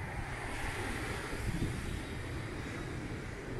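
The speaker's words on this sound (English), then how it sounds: "Fairly windy today." Strong wind buffets the microphone on the Cancun beachfront hotel zone with a constant low rumble, over a broad rushing hiss like nearby surf.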